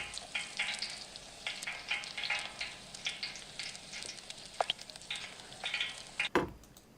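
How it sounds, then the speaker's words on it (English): Steady crackling sizzle of hot oil with frequent sharp pops and spits, close and fairly loud, a brief louder burst near the end. "here's boiling oil"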